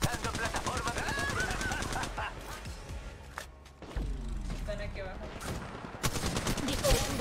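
Gunfire in Apex Legends Mobile, rapid automatic bursts rattling in quick repeated volleys with pauses between, mixed with clanks and game effects while players talk over it.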